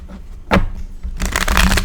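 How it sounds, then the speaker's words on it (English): A deck of tarot cards shuffled by hand at close range, a quick riffle followed by a longer run of rapid papery flicking and rustling, with no voice over it. "Normally, I don't shuffle these in the beginning"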